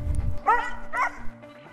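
A border collie at an agility competition gives two quick, high, yappy barks close to the microphone, with low crowd and handler noise underneath.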